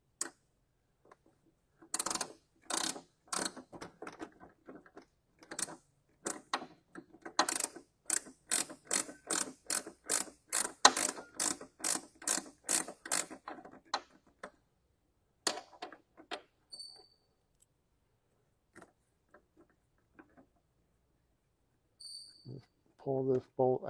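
A ratchet turns a 5 mm Allen screw on a shock mount, clicking in quick rapid bursts of sharp pawl ticks across several strokes, with pauses and a few fainter clicks and brief talk near the end.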